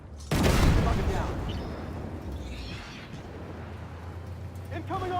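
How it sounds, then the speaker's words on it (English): Artillery fire in the tank game Armored Warfare: one sudden loud blast that hits hard and then rumbles and decays for several seconds, with faint in-game effects trailing after and no talk over it. "Artillery is shooting at me"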